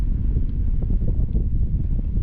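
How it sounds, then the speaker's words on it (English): Steady low roar of wind buffeting the microphone, loud and continuous with no other sounds. "I know it's very windy right now."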